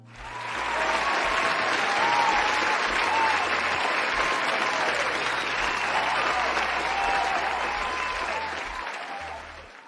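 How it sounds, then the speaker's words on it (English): Sustained applause from an audience, swelling quickly to a dense, steady clapping that fills the whole stretch before easing off slightly at the end. "you deserve a round of applause for that"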